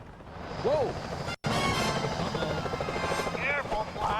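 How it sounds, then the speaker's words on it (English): Security helicopters from Sly Cooper: Thieves in Time give a steady whirring drone through the whole clip, with a sharp crash or thump near the start and game effects layered on top. "Careful, Fly. Those security choppers are bad news."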